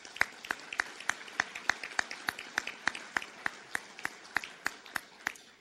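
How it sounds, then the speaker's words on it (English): Sparse, steady hand claps at a Toledo Rotary club meeting, about three claps per second, fairly quiet and slightly distant, with no talk over them. "So I think that deserves some applause."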